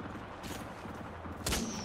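Rapid gunfire from a ranked match in the shooter game Apex Legends, a dense sustained burst of shots with a louder sharp crack near the end, mixed with game effects and no talking.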